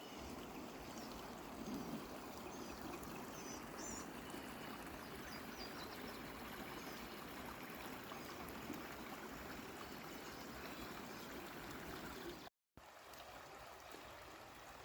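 Pickle Creek flows along a wooded trail across from a backcountry campsite, a steady, fairly faint burble and trickle of stream water running unbroken, with a brief dropout near the end.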